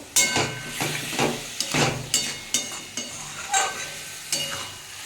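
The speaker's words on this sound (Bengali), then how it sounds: "চাপা দিলে এতে ভীষণ জল বেরিয়ে যায় চাপা দেবো না এইভাবেই আস্তে আস্তে ভেজে নেব" Bombay duck (lote fish) frying uncovered in a pan over a gas flame, giving a steady close sizzle with a series of louder scraping stirs at regular intervals, with no talking.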